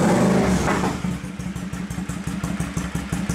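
A motorcycle engine idles after a carburetor cleaning, settling from a brief rev into a steady, close, loud chugging putter with a regular pulsing beat.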